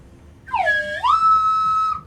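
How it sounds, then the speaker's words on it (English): A single slide whistle note dips down, then glides up and holds a steady pitch, loud and close with nothing else over it. "DJ's here Um, with the slide whistle."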